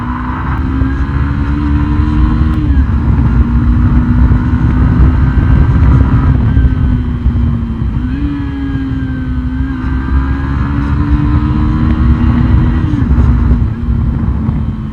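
A Hero Xtreme 160R motorcycle with 37 mm telescopic front forks is ridden, its engine holding a steady loud drone that dips and rises in pitch with gear changes, wind rush constant throughout.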